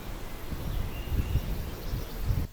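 Soft, steady outdoor wind rumble in a light breeze, muffled by a store-bought microphone windshield, low and gusty, with faint high insect or bird sounds far in the background.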